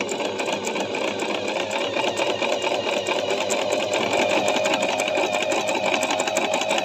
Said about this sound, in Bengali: এখন দেখেন আমি সেলাই করতেছি